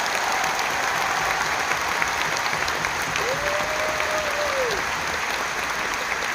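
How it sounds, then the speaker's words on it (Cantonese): Steady, dense applause from a large concert crowd in Malaysia, thanking the pop music teachers during a show, continuous and loud throughout with a faint sustained tone rising briefly in the middle. "喺度想借大家嘅掌聲一次，多謝晒我哋負責流行音樂部分嘅老師"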